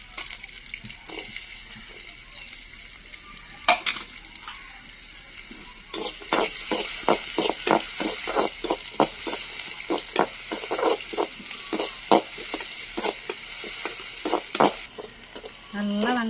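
Chopped onions frying in a little oil, a steady sizzle with repeated scraping and stirring clicks from a utensil in the pan, close up, and a faint voice now and then.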